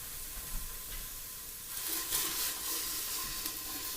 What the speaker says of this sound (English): it looks actually like it's sautéing pretty quickly